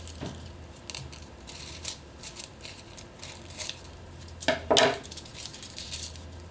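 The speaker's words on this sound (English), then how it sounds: "I like to use a sharp pair of scissors. It just makes it easier to cut the foil." Sharp scissors cut through craft foil with soft, close snips and crinkles, ending in a brief louder metallic rustle near the end, in a quiet room.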